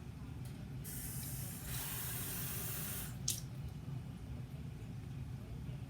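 Tap water runs into a glass in short bursts, a bright hissing splash that starts, stops and briefly returns, heard up close against a quiet room.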